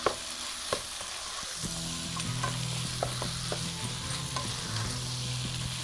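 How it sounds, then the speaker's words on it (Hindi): Tandoori pasta stirred and frying in a pan over high heat, a steady close sizzle with scraping stir strokes and occasional utensil clinks, no talking. "अब हम इसको तेज़ आंच पे स्टर करेंगे"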